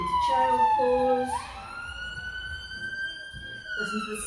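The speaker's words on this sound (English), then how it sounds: "Listen to the siren going past the hospital, the ambulance on its way up or down the hill." An ambulance siren sounds outside near a hospital on a hill, its wailing tone sweeping down then up and holding steady, moderately loud and fairly distant, heard over a quiet room.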